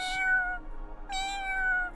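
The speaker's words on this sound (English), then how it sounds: "the meowing grows more frequent and more insistent" A cat meows in a video game, two clear drawn-out meows in a row, close and loud with no other sound.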